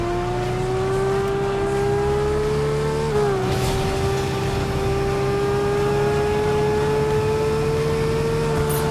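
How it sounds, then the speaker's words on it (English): Car engine in the Fortnite video game, pitched higher than normal, holding a steady sustained drone with a brief dip and shift in pitch partway through, loud and continuous with no talking. "Engine is a bit higher pitched than normal, but otherwise sounds much like the original overall."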